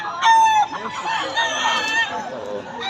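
A rooster crows loudly close by at a chicken market in Bocaue, Philippines, with other fowl and a murmuring crowd in the background.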